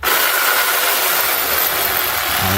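A steady, loud Craftsman power tool motor whine runs without a break during intake manifold work on a 2009 Dodge Journey 3.5 L, with a hissy high-pitched edge throughout.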